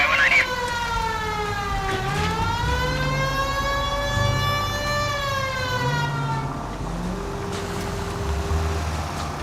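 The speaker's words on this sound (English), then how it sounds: "Turn on the siren and pull her over." A police car siren in the video game L.A. Noire wails loud and close, its rising and falling tone sweeping steadily for most of the stretch before cutting out, with engine rumble beneath.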